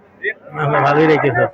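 A cow lets out a loud, drawn-out moo close by at a cattle market in Alamdanga, Chuadanga, preceded by a brief faint sound, with a quick short noise at the end.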